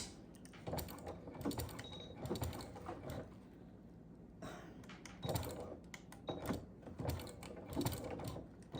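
A sewing machine fitted with a walking foot stitches through thick fabric for an oven mitt, giving bursts of mechanical whirring and clicking that start, stop and restart in short runs at moderate distance, with no talk.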